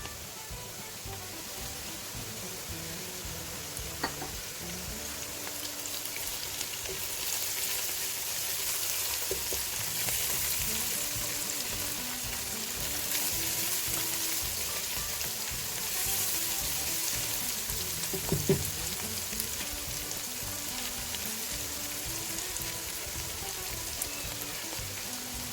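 Garlic-ginger paste sizzling with onions in oil in a pan for potato keema, a continuous dense frying hiss throughout with a few brief stirring knocks, no talking.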